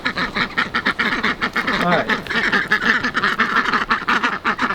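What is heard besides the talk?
ducks quacking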